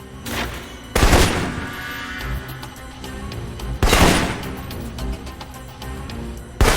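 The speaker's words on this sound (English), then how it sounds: "For long-range encounters, the assault rifle's the key" Assault rifle fire in the Alpha Protocol video game, loud close bursts of rapid shots with two heavy booming volleys and scattered rattling in between, no talk.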